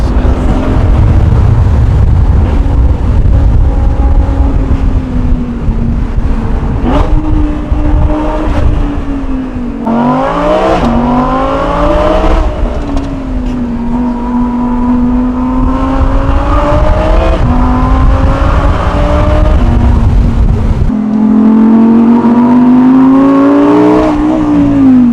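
An Audi R8 pulls up at a trackday with a loud, close engine note, revving up and down in rising and falling sweeps, with a sharp burst of throttle near the middle and a steady idle-like drone between.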